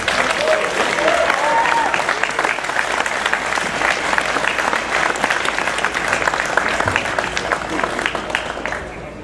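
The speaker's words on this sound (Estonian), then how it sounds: "Teeme aplausi." An audience at the Robotex 2011 robotics competition awards ceremony applauds, a dense, loud burst of clapping that holds steady for several seconds before tapering off at the end.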